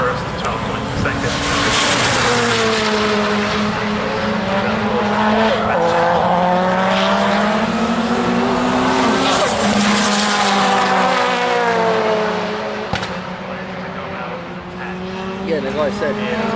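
Race cars roar past during pro races at Tunerfest 2025, engines droning loudly and steadily with rising and falling pitch throughout, a voice talking over the racing.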